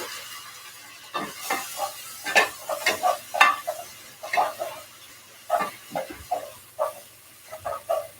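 Onions sweat and sizzle gently in a home kitchen pan, heard as a quiet background fry broken by a run of irregular scraping and tapping stir strokes, close and moderate.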